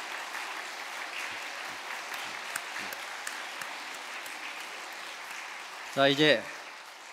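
A Korean church congregation at a Sunday service on January 1 applauds in encouragement as flowers are presented, steady distant crowd clapping throughout, followed at the end by someone briefly speaking into a microphone.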